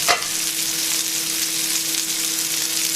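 Duck breast frying in a griddle pan gives a loud, dense, continuous sizzle and crackle with a steady hiss throughout and a brief clatter at the start.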